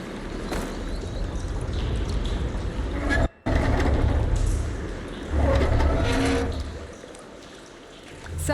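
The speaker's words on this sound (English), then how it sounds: "Aloy, I can hear water in the room again" Water runs steadily through a room in the video game Horizon Forbidden West, a continuous rushing wash with a brief drop near the middle before it swells again, heard alone.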